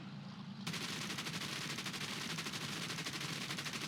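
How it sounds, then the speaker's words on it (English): Forward aircraft guns fire in War Thunder, a rapid machine-gun rattle that starts abruptly and runs on in a steady, dense burst of quick shots, fairly faint, with no voices over it. "Okay, you're gonna have to start shooting now."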